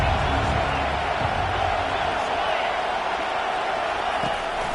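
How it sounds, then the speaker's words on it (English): Stadium crowd roaring in a college football video game, Colorado at Utah: a steady, dense wash of crowd noise that never lets up, with a commentator talking over it. "This crowd trying to make life miserable for this offense."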